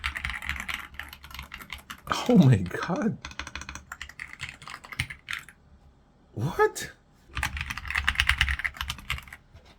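Clacky keystrokes on an AULA F87 wireless mechanical keyboard with a gasket-mounted, hot-swappable build, coming in quick bursts with short pauses between them, while a voice reacts in surprise.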